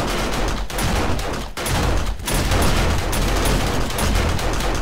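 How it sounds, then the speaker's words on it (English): Automated gun turrets in the zombie survival game 7 Days to Die fire in a dense, continuous volley of loud, rapid shots with only brief gaps. "let's switch on the gun turrets"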